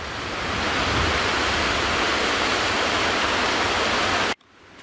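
A mountain stream rushes steadily down the side of a mountain toward the New River on the Kaymoor Trail, a loud, even broadband wash of water that stops abruptly near the end.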